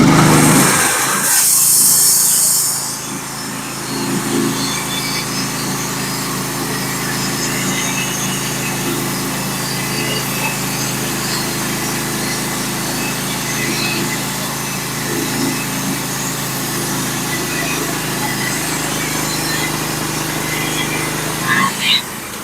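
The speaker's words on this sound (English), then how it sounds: "This band is milling so well. This band is just cutting great." A Norwood HD36v2 band sawmill cuts through a black oak log, giving a steady, loud whine from start to finish with a burst of sharper noise near the beginning.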